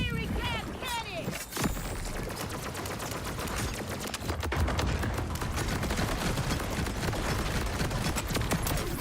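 A fiery gas cannon fires in the video game Borderlands 4, a fast, loud volley of repeated gunshot bursts with crackling impacts that builds and holds steady through the clip.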